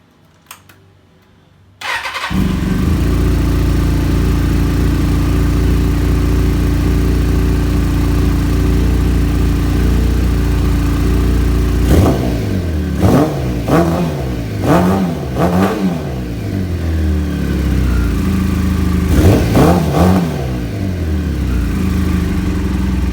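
A Kawasaki ZZR600 motorcycle with a Super Trap exhaust fires up after a brief quiet moment and settles into a steady, loud idle. Several sharp throttle blips follow near the end.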